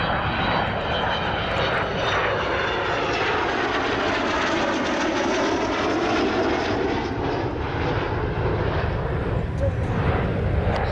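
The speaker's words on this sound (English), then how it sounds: "Vulcan's Olympus engines coming on there" Loud, continuous roar of an Avro Vulcan bomber's Rolls-Royce Olympus jet engines with shifting whine and rumble, close and powerful throughout, at RAF Cosford.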